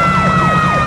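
An ambulance siren wails in a film chase scene, a loud, close rising and falling tone lasting under a second with no talking.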